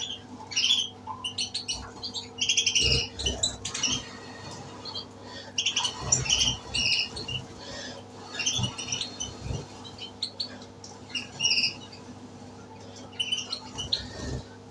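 A young green-ground agate canary, unringed and probably female, chirps in a series of short, bright calls, repeated in bursts over a steady background hum.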